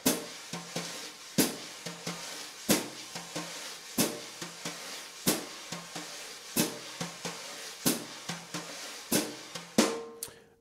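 Jazz drum pattern played with wire brushes, the hands crossing over: crisp swishes and sharp taps in a steady, evenly spaced rhythm with regular louder accents, close and clear with no talking.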